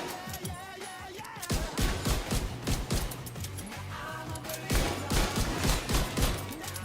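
Rapid bursts of shots from a weapon in The Division 2, crackling volleys that come in quick clusters, loud and close, with a brief lull before more firing.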